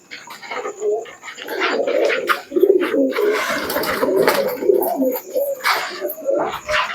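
Pigeons coo steadily and loudly inside a loft, with overlapping low throaty calls that run almost without a break. Higher chirps and rustling come through now and then.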